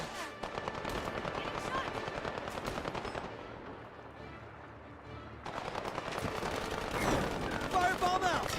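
Heavy automatic gunfire rattles in the shooter game HighGuard, dense bursts that ease briefly in the middle, then return louder with impacts and overlapping game effects.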